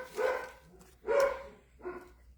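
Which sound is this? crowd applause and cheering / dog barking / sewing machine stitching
dog barking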